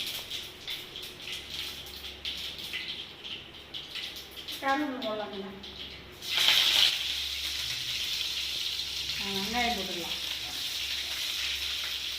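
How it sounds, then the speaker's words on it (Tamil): Mustard seeds spluttering and crackling in hot oil in a pan while egg gravy is cooked, a steady close sizzle that grows louder partway through, with people talking over it. "எண்ணெய் காயிட்டுங்கண்ணே நான் கொஞ்சம் கடுகு போடுறேங்கண்ணே"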